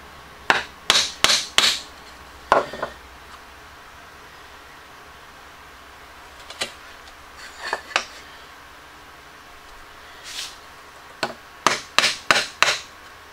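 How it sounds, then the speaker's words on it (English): Chisel driven by a mallet to chop waste wood from a dovetail joint: clusters of sharp, close wooden knocks in quick bursts of three or four, separated by quieter pauses and lighter taps. "Chisel out the waste."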